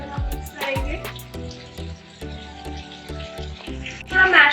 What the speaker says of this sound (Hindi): राजमा का ही अच्छी तरह मिक्स करेंगे